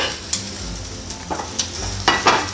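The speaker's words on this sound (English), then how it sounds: "I'm going to mix everything together into that pot" Shrimp and Alfredo sauce stirred together in a pot, with a few scraping spoon strokes against the metal over a soft ongoing simmer, close and fairly quiet.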